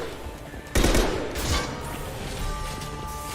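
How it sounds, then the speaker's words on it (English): Gunfire in the Mass Effect video game, a loud burst of shots opening with a sharp crack and then rolling into a dense, sustained volley with scattered heavier thumps, all close and forceful. "Firing a high-impact shot!"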